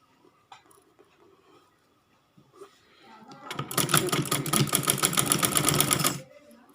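A sewing machine stitches an A-line kurti, starting after faint handling sounds with a rapid, close mechanical chatter that runs for about three seconds and then stops.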